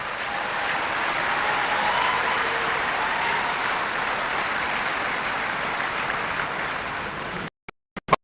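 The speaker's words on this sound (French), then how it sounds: "je vous demande de les applaudir une fois de plus" Sustained audience applause at an inauguration ceremony, an even, dense wash of many hands clapping at moderate distance without talk, ending abruptly with a few isolated knocks.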